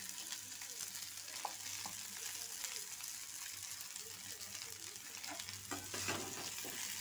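Eggs and potatoes frying with turmeric in a pan, stirred for a cumin-tempered egg curry: a faint, continuous sizzle with soft scraping stirs, and a few light clinks throughout.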